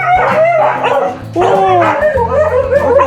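Several dogs at home bark and yip eagerly just before being fed, with loud overlapping barks and whimpers close by, broken by a brief lull; a person exclaims once amid the noise.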